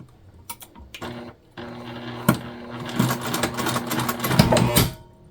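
A sewing machine basting the edges of a fabric panel, running in short bursts of rapid stitching with brief pauses between, close by and without talk.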